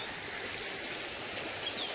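Creek water flowing steadily beside a hiking trail in the Appalachian mountains near Laurel Fork, a continuous close rushing wash with no voices.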